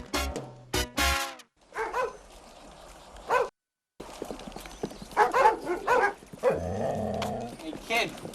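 Dogs bark at night near a mango tree in a Cuban film scene: a few sharp, close barks and yips at the start, followed by talking voices, hoof-like clopping and background noise.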